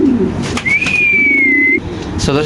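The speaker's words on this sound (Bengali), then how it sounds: "এখানে আছে এক জোড়া কবুতর" Lahori and Indonesian pigeons kept by a seller coo close by, soft low throaty calls broken by a thin drawn-out whistle-like note, brief and repeated over a couple of seconds.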